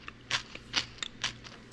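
Sweet refrigerator pickles with mustard and ginger are bitten and chewed up close, giving about five sharp, wet crunches at uneven intervals over a quiet background, with no speech.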